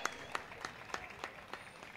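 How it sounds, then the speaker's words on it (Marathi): A crowd at a cricket tournament final claps in a slow, even rhythm, about three beats a second, heard faint and distant with nothing else over it. "जोरदार टाळ्या या व्यक्तिमत्वासाठी"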